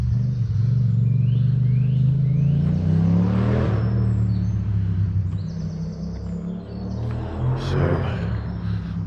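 Distant car engines rumble steadily from roads beyond the woods, a loud low drone that swells and fades, with bird chirps scattered faintly over the top.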